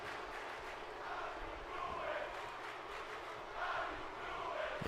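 Wrestling arena crowd in WWE 2K18 during a No Mercy pay-per-view match, a constant distant roar of cheering with swelling chants and shouts rising in waves, no close voices.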